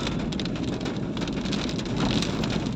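Heavy rain pours down steadily on the old zigzag road of Atimonan, Quezon, a dense continuous hiss of drops drumming on surfaces, close and unbroken for the whole stretch.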